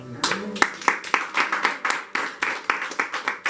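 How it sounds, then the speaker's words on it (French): Congregation clapping in rhythm during a French-language Sunday church service, a steady run of sharp, evenly spaced claps from many hands filling the room, with no speech over it. "Acclamons cette parole."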